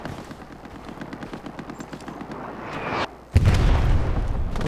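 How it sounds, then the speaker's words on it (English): Rapid gunfire rattles in the World War II shooter Hell Let Loose, a steady burst of close automatic shots that cuts off briefly before a loud blast and heavy rumbling fire. "Taking fire, taking fire."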